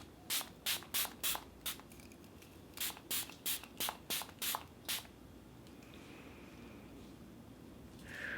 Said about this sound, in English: Let's do just a few more sprays. Yes, it's very gentle.